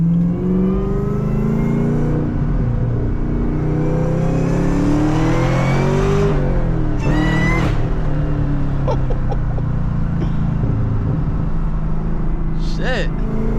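A supercharged Camaro engine hums and revs as the car drives around a campus at night, pitch rising and falling with acceleration, with a few brief voices and background noises.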